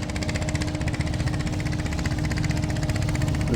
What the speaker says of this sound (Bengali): একটি ট্রলারের শব্দ টের পাওয়া যাচ্ছে